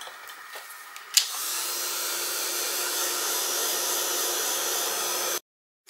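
A heat gun or hair dryer switching on and blowing steadily to dry sprayed paint on a craft heart, a loud, close, continuous whooshing roar that cuts off abruptly.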